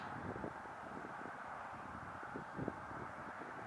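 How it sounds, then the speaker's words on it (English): A strong cold wind blows across open, nearly treeless grassland plain, a steady, faint broadband rush with no gusting peaks and no voices. "There's quite a strong cold wind blowing down across the plain."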